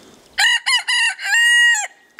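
A single loud rooster crow close by, a few choppy opening notes followed by a long drawn-out final note.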